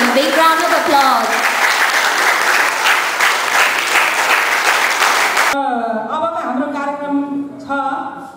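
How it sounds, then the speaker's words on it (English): A big round of applause fills a Dashain party hall for ex-Gurkhas in Nottingham, loud and sustained for about five seconds before cutting off abruptly into talking. "Ladies and gentlemen, please give a big round of applause."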